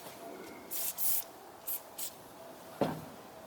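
Short aerosol lubricant spray bursts on the choke cable of a 1980s Simplicity Sunstar riding mower with a 20 hp Kohler Magnum engine: four brief hissing squirts, then a sharp knock, close and fairly quiet.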